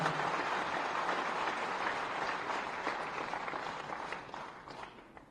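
A crowd at an Indian political event applauds with dense, continuous clapping that slowly fades over a few seconds.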